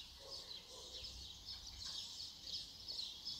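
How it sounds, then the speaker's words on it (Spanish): Faint birds chirp and twitter in the distance, a soft steady stream of high calls over quiet outdoor background. "mira, escucha, escucha los pajaritos"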